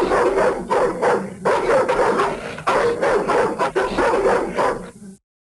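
Hyena hounds in the 1995 PC game Adventures of Batman & Robin, snarling, growling and yapping in a dense continuous stream for about five seconds, loud and close, then cutting off abruptly.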